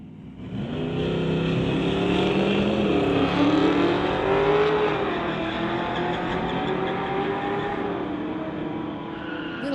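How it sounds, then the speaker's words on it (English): A 1993 Ford Mustang and a 1962 Ford roar side by side in a street-legal drag race, engines revving hard and loud with a rising pitch sweep midway, the sustained drone fading slightly toward the end. "Josh M from Mission 93 Mustang going against John from North Delta, the 62 Ford"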